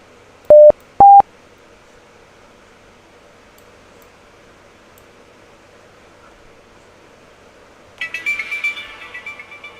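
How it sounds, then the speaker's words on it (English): A phone alert sounds during a live severe weather radar stream covering Ohio, Kentucky and Texas: two short electronic beeps at the start, a quiet stretch, then a louder buzzing alert tone near the end. "that was my my phone going off"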